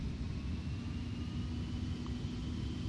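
Steady roaring jet engine rumble of a Boeing 727 on its takeoff run in Flight Simulator X, a constant loud drone with a faint whine above it and no talking.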